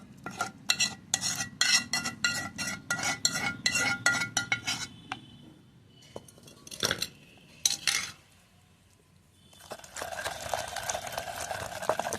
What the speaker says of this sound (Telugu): టమాటాలు వేసేసుకుందాము రోట్లో